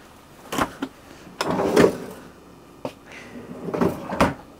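A two-part door on a tri-mixed gas/220 V/12 V refrigerator in an Itineo PS700 camper van, with several close, short knocks and latch clunks from the door sections being opened.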